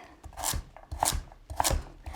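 A knife chops vegetables for sautéing on a board in a home kitchen, four bursts of quick close cuts spaced about half a second apart, with no talking.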